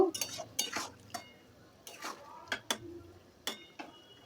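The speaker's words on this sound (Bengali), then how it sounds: "চিনিটা দিয়ে আবার একটু ভালোভাবে মিশিয়ে নেব" A spoon stirs lau shukto, a Bengali bottle gourd curry, in a metal pan after salt and sugar go in, giving a run of irregular scraping clinks and knocks with short pauses between them, close and fairly quiet.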